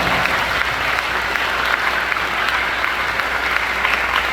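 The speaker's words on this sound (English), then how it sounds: "Give you a round of applause." An audience gives steady, dense applause for parents at a high school indoor winds ensemble's world championship celebration; the clapping runs evenly throughout without pause and no one speaks over it.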